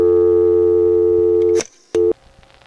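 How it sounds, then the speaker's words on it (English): A dial tone burst on a 599 telephone line: a loud, steady tone holds for about a second and a half, cuts off, returns as a brief burst, then gives way to faint line noise. "And there was that dial tone burst that I'd been waiting for."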